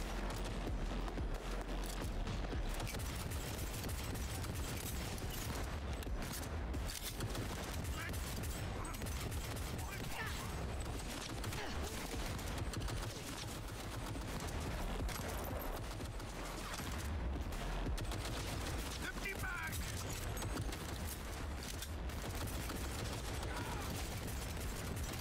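Gunfire from a pistol in the video game Cyberpunk 2077, a dense, continuous run of shots and booms lasting throughout, loud and busy with game action layered over it.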